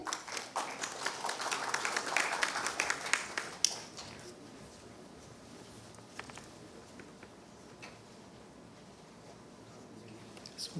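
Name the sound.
audience applause for a summit speaker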